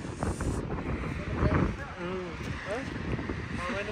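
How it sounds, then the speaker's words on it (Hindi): Cold wind rushes past a car on a Pune highway in Maharashtra, a steady loud buffeting roar throughout, while someone talks over it. "ठंडी हवा चल रही है बढ़िया एकदम"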